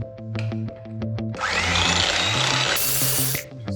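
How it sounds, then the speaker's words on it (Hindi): Yogurt and sugar beaten with a motorized mixer until the sugar dissolves: a loud, steady electric whir that starts in short bursts, then runs continuously with a rough churning texture before easing off. "सो ये हम तब तक मिक्स करेंगे जब तक चीनी हमारी एकदम घुल नहीं जाती है"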